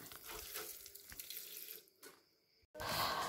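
Food being washed clean in a kitchen sink under a running tap, a steady close splash of water that pauses briefly near the end before gushing louder.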